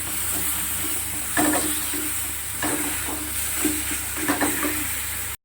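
Spices with a little chilli powder being sautéed for Bengali aloo dum, a steady close sizzle with a few louder stirring scrapes of a spoon in the pan, no talking.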